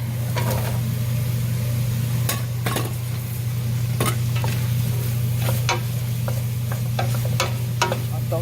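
Celery and apples sizzle in butter with onion in a pan, a steady close frying hiss over a low hum, broken by scattered spoon scrapes and knocks from stirring.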